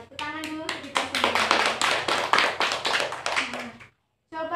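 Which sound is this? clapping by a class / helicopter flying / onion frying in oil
clapping by a class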